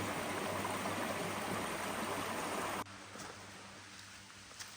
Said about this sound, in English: Got a nice little trickle of water here.